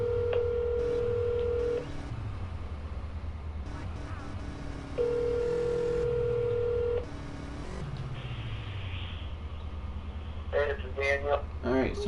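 Repeated steady telephone tones sound over a phone line, the call ringing through and going to voicemail, with a person talking in the background between and after the tones.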